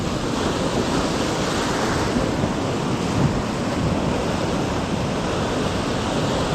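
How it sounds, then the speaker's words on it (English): Ocean waves break on a tidal shoreline where lure fishing takes place, a loud, continuous roar of surf mixed with wind buffeting the microphone, with no voices. "These are the odd waves that I've got to deal with."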